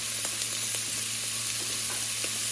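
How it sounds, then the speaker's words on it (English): Chopped bacon frying crisp in a stock pot, a steady close sizzle with a few faint stirring scrapes, no talking. "just gonna get this bacon crispy"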